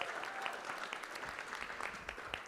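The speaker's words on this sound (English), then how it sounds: "a big round of applause for IGG Screen Printing" An audience at the Okie Awards show in Oklahoma applauds IGG Screen Printing, a steady patter of many hands clapping, moderately distant and fairly faint, continuing evenly throughout.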